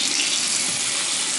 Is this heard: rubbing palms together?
no